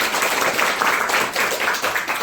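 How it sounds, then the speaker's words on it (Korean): Audience applause at an orientation for an American English camp in January 2020, a steady, dense wash of many hands clapping close by, sustained without break. "인사 한번 해주시고 박수 한번 드리겠습니다"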